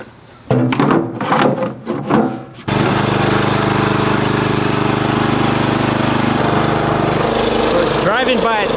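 A big self-propelled brush mower used for clearing land: a voice talks briefly, then the engine starts and settles into a loud, steady, close running drone.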